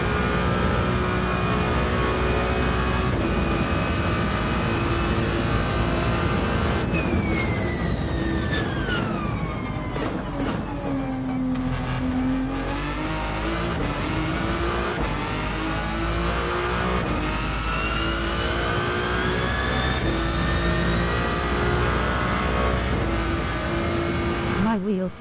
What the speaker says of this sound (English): Oh, listen to that. For a V6, man.